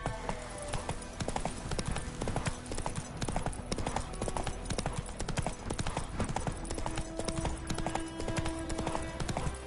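A horse's hooves clip-clop steadily in a video game, a close, continuous walking rhythm with a voice speaking briefly over it.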